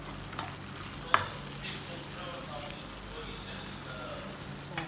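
Ginger frying in a pan for a shrimp dish, a steady soft sizzle with a sharp utensil clack near the start and occasional stirring, close but moderate in level.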